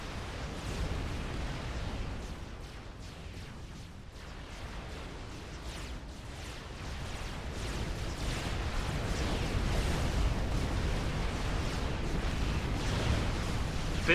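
Sniper bots open fire in a Supreme Commander Forged Alliance battle, a busy wash of rumbling explosions and repeated weapon blasts that swells louder over the stretch, with no voices.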